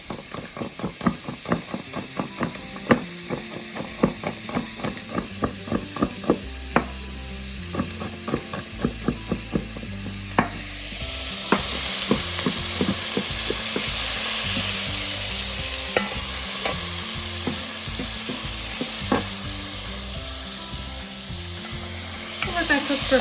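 Onion and three cloves of garlic sizzle and fry in a pan for an Italian-style lentil soup, with crackling pops and stirring clatter early, then a steady louder hiss settling in, close and alone.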